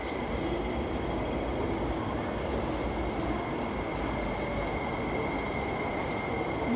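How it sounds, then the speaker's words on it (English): An MTR train at rush hour rumbles steadily through Tai Shui Hang Station, a continuous loud rail roar with a high whine and faint wheel squeal throughout, no voices. "Yes, that is a rush hour train right there"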